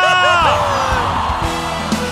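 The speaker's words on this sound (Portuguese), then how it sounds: "Quem tá feliz dá um grito aí!" A group of people in a radio studio yelling and whooping with joy together, loud and close, a dense burst of overlapping excited voices.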